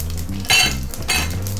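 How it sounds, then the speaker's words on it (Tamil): Fennel seeds sizzling in hot oil, a loud close crackle with two sharp bursts over a steady low hum, along with some clinking of utensils. "ஸோ எண்ணெய் சூடாகிடுச்சு, அது கருகிறதுக்குள்ள சோம்பு"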